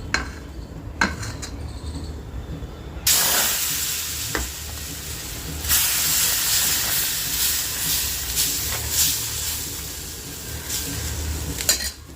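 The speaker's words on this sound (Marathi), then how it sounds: "इथं बनवते मी आता बेसन पिठाचे धिरडे" Gram flour pancake batter (besan dhirde) with chopped onion, cumin, salt, turmeric and coriander sizzles steadily on a hot pan, a loud, continuous frying hiss that swells after a quieter start, with occasional utensil clinks.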